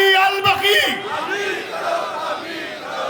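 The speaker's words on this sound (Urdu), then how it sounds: "وہ اس نعرے میں پوری طاقت سے دونوں ہاتھ اٹھا کر نعرے میں شامل ہو جائے" A large crowd at a religious majlis gathering shouts a slogan in unison, a loud roaring chant that surges at the start and then continues as sustained massed voices.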